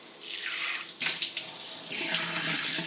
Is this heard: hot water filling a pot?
yes